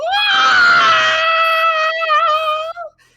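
A human voice imitates the piercing shriek of a flying detached head with flapping ears, one loud sustained high scream lasting about three seconds that wavers slightly before cutting off.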